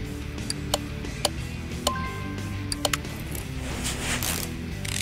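Brake disc, pad and caliper being fitted in the Car Mechanic 2018 game, heard as a series of sharp mechanical clicks and ratcheting ticks over a low, steady hum of background music.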